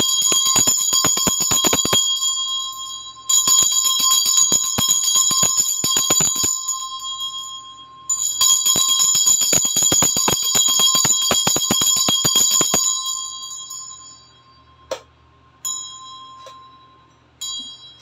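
Tibetan bell rung for cleansing before a tarot reading, struck again and again in bright, dense metallic ringing bursts with long shimmering tails, loud and near, trailing off into a few isolated strikes.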